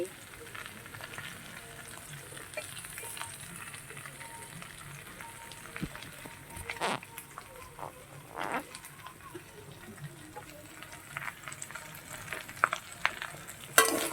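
Jackfruit, potato and liver fry in a pan with a steady, soft sizzle, broken by occasional scrapes and clinks of stirring, close but fairly quiet throughout.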